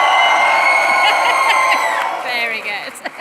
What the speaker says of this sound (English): I want you to give a big cheer for the graduating class of 2025